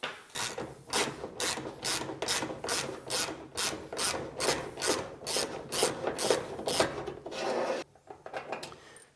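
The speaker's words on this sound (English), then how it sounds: "Now with those caps out of the way, we can remove our bolts." A ratchet loosens the shock absorber bolts on a Samsung washing machine, clicking in a steady run of about a dozen rasping strokes, close and loud, before it stops.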